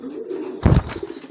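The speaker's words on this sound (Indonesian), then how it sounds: "Nah ini merpati mantan tetelo tuh." A domestic pigeon recovering from Newcastle disease (tetelo) gives a single short, close coo, a low throaty burst over faint background murmur.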